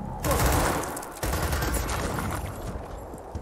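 Sustained automatic gunfire in the turn-based game Gears Tactics rattles loudly for a few seconds, a dense burst of rapid shots that briefly breaks off and then resumes with echoing impacts.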